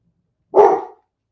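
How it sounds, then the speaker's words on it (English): A single short dog bark, close and fairly loud, against silence. "Doggy's barking, Terry."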